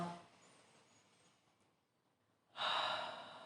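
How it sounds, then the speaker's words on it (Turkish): During a quiet yoga session, one deep, audible inhale rises near the end after a soft, faint breath, close and clear against a hushed room. "Derin bir nefes al."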